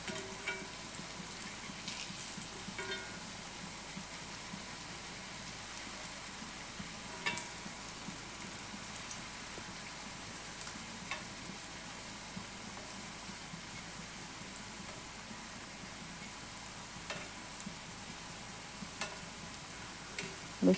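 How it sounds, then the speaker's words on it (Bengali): Pitha cakes fry in oil, a soft, continuous sizzle with scattered small pops and occasional faint ticks, steady and fairly quiet throughout. "বেশ লাল লালভাবে ফ্রাই করে নিচ্ছি।"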